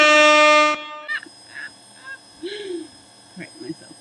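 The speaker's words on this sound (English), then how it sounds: "Let's give you a DJ air horn." A loud, brassy DJ air horn blast with stacked harmonics holds for under a second, then cuts off, followed by quieter scattered squawks and chirps.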